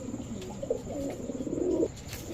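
White Budapest highflyer pigeons coo softly, a low burbling murmur rising and falling for about two seconds, close by and alone.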